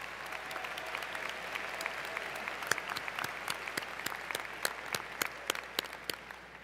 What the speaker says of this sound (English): A round of applause for Shelby, please.